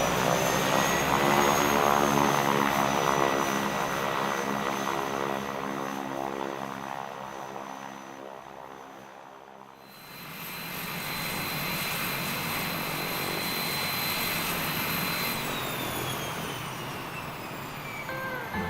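A propeller aircraft drones loudly and steadily overhead, its engine hum dipping briefly near the middle before returning at a slightly different pitch, with no voices present.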